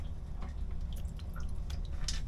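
Salt water drips from a leak aboard a Bali 4.2 catamaran, a few faint, sparse drops over a low hum in an enclosed space.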